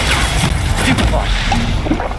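Spell impact in the Hogwarts Legacy video game, a Stupefy stun cast amid combat: a dense, loud burst of crashing, booming hits and whooshes with a voice shouting over the fray.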